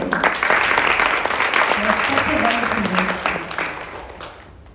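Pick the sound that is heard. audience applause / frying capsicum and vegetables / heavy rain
audience applause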